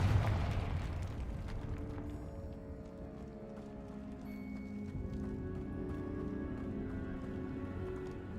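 Confringo fire spell blasting in Hogwarts Legacy: a sharp explosive burst at the outset decaying into crackling, rumbling debris and lingering tonal game sounds, with no one talking.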